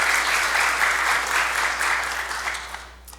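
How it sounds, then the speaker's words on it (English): Audience at a manufacturing industry briefing clapping together in a dense, steady round of applause that tapers off near the end. "One more round of applause for our staff, if you would, who have worked hard on today's event."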